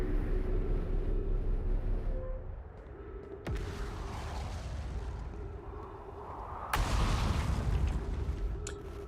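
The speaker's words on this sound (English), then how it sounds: "These explosions are making me slightly anxious." Explosions in the space exploration game Outer Wilds, with a steady low rumble under sudden loud booming bursts, one sharp blast near the middle and a bigger swelling roar toward the end.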